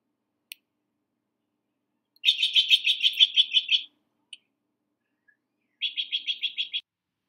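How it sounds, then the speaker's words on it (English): A Steller's jay along a riverbank trail gives two bursts of rapid, harsh repeated calls, the first longer and the second shorter, separated by silence with a few isolated clicks. "This is a Steller's jay."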